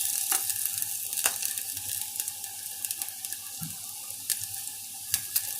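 Carrot and cabbage frying in a pan for a vegetable clear soup, a steady close sizzle with scattered clinks and scrapes of stirring, no voices.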